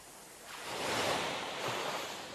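Sea waves roll onto a beach shore, with a soft broadband wash that swells in the middle and then eases off, steady and moderately distant, with no voices.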